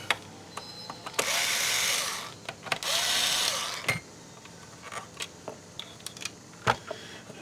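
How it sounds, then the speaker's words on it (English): Screws being backed out of a GM climate control panel with a hand tool, giving two sustained whirring bursts between short clicks and ticks, close up with no talking. "So we just take these 4 screws out."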